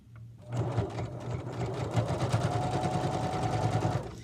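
A sewing machine stitches a pillowcase seam, starting after a brief pause and then running in one fast, even, close-up rattle for about four seconds.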